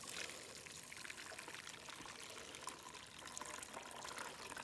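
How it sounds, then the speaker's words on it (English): Water strained from wet-chopped vegetables pours and trickles steadily in a kitchen, a faint continuous splashing with no voices. "all you're gonna do is strain that mixture to get the water out"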